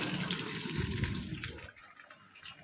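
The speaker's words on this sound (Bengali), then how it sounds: "এটা ভেজানো সাবু ভিজিয়ে রেখেছিলাম ফ্রাইড রাইসের জন্য। এটাকে ভালো করে ধুয়ে নেব।" Soaked sago pearls are rinsed under a running tap, a steady close splash of water that thins out toward the end, with a brief knock at the finish.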